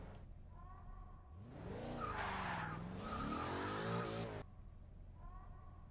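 Car tyres squeal in a long, wavering screech in Garry's Mod, rising and falling over about three seconds between quieter engine hum, with faint squeal fragments at the start and end.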